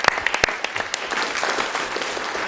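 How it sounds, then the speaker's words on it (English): A city council meeting audience breaks into applause, a few loud close claps at the start quickly building into a steady wash of clapping that fills the room. "That deserves a round of applause"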